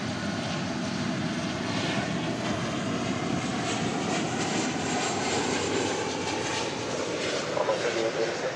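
A Boeing 737-800 arriving at DFW Airport from Jacksonville gives a loud, sustained jet engine roar that stays steady and close from start to end.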